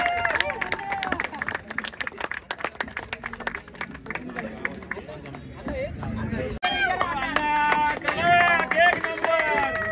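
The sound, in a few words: audience applauding loudly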